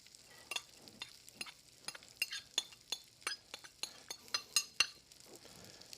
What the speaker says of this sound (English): we're just going to hear it start to sizzle a little bit